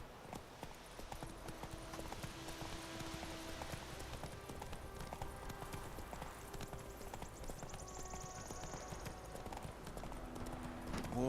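A horse galloping in The Witcher 3, fairly quiet, with a continuous run of clip-clopping hooves beneath faint game music and ambience.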